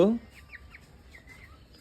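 A chicken gives a short, loud cluck right at the start, followed by faint, high chirpy calls over a quiet background.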